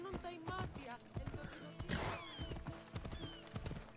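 A horse summoned in the video game Assassin's Creed Odyssey, with rhythmic hoof clip-clops and a brief whinny, mixed under someone talking in the foreground.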